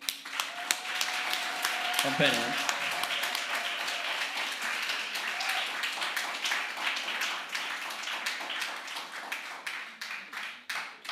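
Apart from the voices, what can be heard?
audience applause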